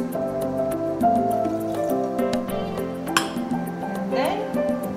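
A drink being poured into a glass while making an easy party cocktail, with soft liquid trickling and a few light glass clinks over background music.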